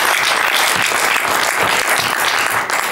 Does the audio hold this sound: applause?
yes